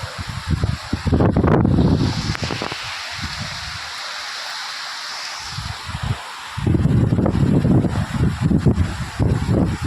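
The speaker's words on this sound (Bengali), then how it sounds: "দেখো কেমন দমকা হাওয়া।" Gusty wind from Cyclone Remal roars in strong, surging bursts that ease to a quieter lull around the middle before building loud again, with a vehicle passing during the storm.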